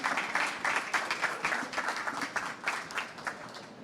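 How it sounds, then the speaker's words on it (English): A conference audience at COP26 gives a round of applause to an introductory panel on charging infrastructure, with steady, dense clapping that stays loud for several seconds and then slowly thins out. "Can we have a round of applause for our introductory panel?"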